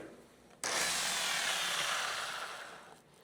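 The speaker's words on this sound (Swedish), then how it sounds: "Jag ska prova att slipa med ett 400" A Saab 96 bonnet being sanded with 400-grit paper: a steady, broad, hissing rub starts abruptly and runs on for over two seconds, close and moderately loud, before fading slightly.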